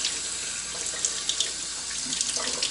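A kitchen tap runs into a sink in a steady, close, broadband rush of water with small splashy fluctuations, continuous throughout with no voices.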